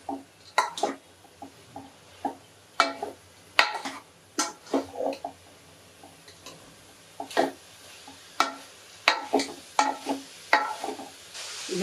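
Sprouted horse gram fries in a pan while being turned over with a spoon, a soft sizzle under repeated sharp scrapes and clinks of the utensil against the pan, close and irregular, with no voices.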